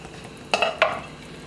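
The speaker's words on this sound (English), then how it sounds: "So we're gonna add some corn now" Corn kernels dropped into a pot of Jamaican chicken soup, two quick clattering splashes in succession, close and clear against a quiet kitchen background.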